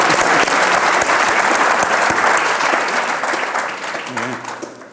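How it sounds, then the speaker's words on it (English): Audience applause for scientists at a grasslands conference session, dense sustained clapping from a crowd that gradually tapers off, with faint voices emerging near the end. "So let's give an applause to these scientists on the front lines."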